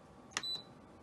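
A finger presses the cancel button on an Instant Pot electric pressure cooker, giving a soft click and then a single short electronic beep, close and quiet, with no talking.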